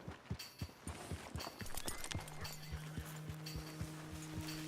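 Horse hooves clip-clop in a brisk, steady rhythm in Red Dead Redemption 2, near and clear with no voices, and a faint sustained tone joins partway through.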